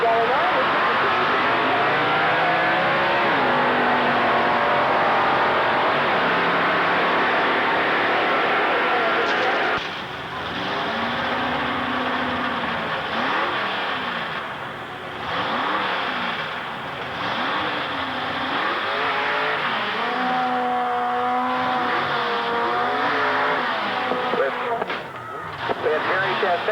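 A supercharged Ford 460 drag race car with a blower and two carburetors roars down the strip at full throttle, loud and sustained, its pitch climbing through the gears while an announcer talks over it.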